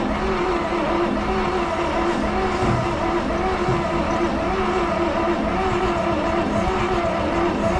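A train engine cranking over after fuel is added, a steady dense mechanical roar with a continuous rumbling drone that holds evenly throughout, with no voices.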